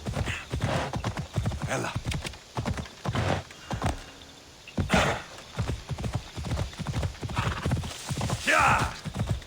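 A horse in the video game Assassin's Creed Odyssey runs with rapid, steady hoofbeats and snorts, and a whinny rises near the end; someone speaks briefly over the hooves.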